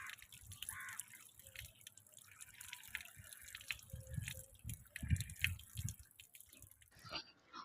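Water drips and splashes at a sink while flowers are washed in the morning, irregular close drops and trickles at low level, no voices.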